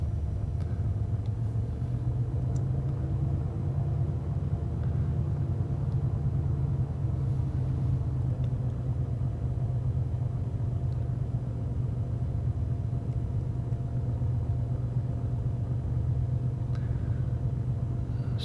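Steady, droning rumble of a Cessna 210 piston engine at full power during the takeoff roll in the X-Plane flight simulator, holding loud and even without a break and with no talk over it.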